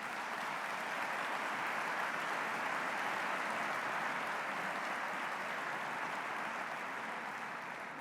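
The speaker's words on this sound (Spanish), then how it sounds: "Así que un aplauso para todas esas empresas" Sustained audience applause at an annual corporate social responsibility conference in Aragón, a steady broadband wash of clapping at moderate level throughout with no talk.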